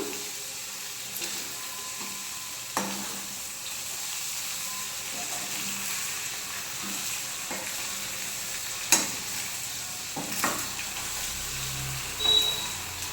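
Egg garlic chili curry fries gently in oil in a pan with a steady low sizzle, punctuated by occasional soft clicks and scrapes of stirring, and no talking.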